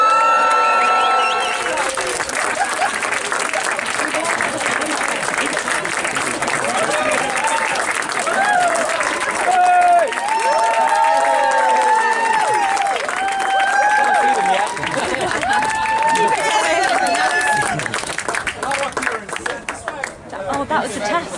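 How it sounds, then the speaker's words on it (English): Wedding guests burst into sustained applause mixed with cheering and lively chatter, loud and close, continuing for a long stretch. "Let's make some sound and applause for them."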